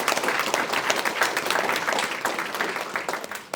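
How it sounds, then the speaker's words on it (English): A crowd at a youth AI hackathon claps for teachers and families, a short burst of brisk, fairly close applause that fades slightly toward the end. "So if you could give them applause."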